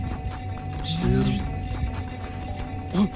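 A brief, eerie warbling video game monster growl with a hissing edge rises out of a low background rumble. A second shorter cry follows near the end.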